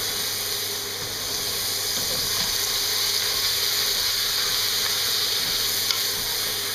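Beef stew meat browning in a pot on the stove, giving a steady, continuous sizzle and hiss with faint stirring taps, close and even throughout, with no voices.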